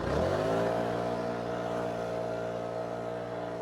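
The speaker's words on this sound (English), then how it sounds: "There's that awesome guy driving by in his little car." A small car's engine drones by on a residential street, rising then settling into a steady harmonic hum that fades slightly, heard alone at moderate distance.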